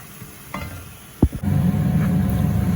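Onions fry in oil in a pan for a Jaffna-style fish curry. They are stirred with a brief scrape, then a steady close sizzle follows, loud and continuous with no talk.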